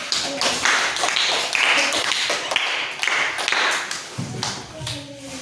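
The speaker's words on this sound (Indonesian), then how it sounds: "Tepuk tangan." A classroom of students claps after a group presentation, loose uneven handclaps in bursts with some tapping and a few voices mixed in, fairly close in a small room.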